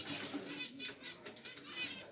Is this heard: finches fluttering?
yes